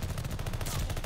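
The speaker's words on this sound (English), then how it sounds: "Enemies called a strafing run." An enemy strafing run in a video game sends a rapid, dense burst of automatic gunfire, loud and close, with no voices.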